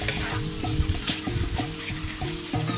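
Vegetables sautéing in a pan for a coconut milk veg pulao give off a steady, close sizzle, broken by repeated scraping clinks of stirring. No one speaks.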